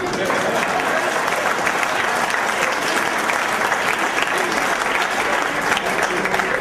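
Sustained audience applause fills a poetry recitation hall by Kavi Pradeep Choubey, a dense, steady wash of many hands clapping throughout with no pause.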